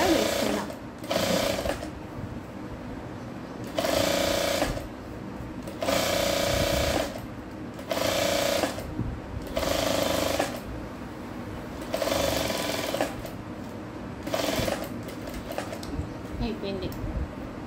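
A sewing machine stitching a blouse shoulder runs in repeated bursts of steady mechanical whirring, each lasting one to two seconds with short pauses between, close and loud over a low background hum.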